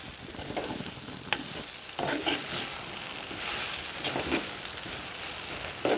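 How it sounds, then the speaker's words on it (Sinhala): Ash plantain pieces sizzle and fry in hot oil in a pan, a steady crackling hiss with occasional stirring scrapes and clinks, fairly soft and close with no talk. "ටිකක් තෙලේ හොඳට පොඩ්ඩක් මේ ටෙම්පරාදු වෙන්න දෙන්න ඕනේ මුලින්ම"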